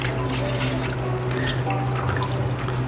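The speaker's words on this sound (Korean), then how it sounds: "두 손으로 이렇게 꼭 눌러서 물기를 빼주시면 돼요" Water drips and trickles as blanched, cooled oyster mushrooms are squeezed firmly by hand for japchae, a close, continuous wet patter.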